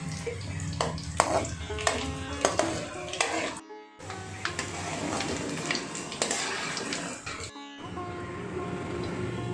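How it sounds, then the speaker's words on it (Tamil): Pieces for a vegetarian anchovy-style fish curry fry in hot oil in a pan, a steady crackling sizzle with stirring scrapes and clinks, briefly cutting out twice. "ஒவ்வொன்றா எடுத்து வறுத்து எடுத்துக்கோங்க."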